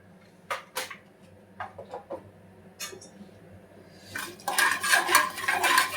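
Mustard seeds, cumin, chana dal and urad dal frying in hot oil in a pan, with scattered sharp pops and clinks that build into a dense, loud crackling sizzle toward the end.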